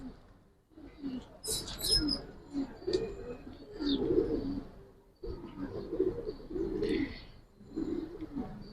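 Gribaz tumbler pigeons, the long-breathed kind, coo in low throaty rolling phrases close by, with several birds overlapping in bursts and a few higher chirps and rustles mixed in.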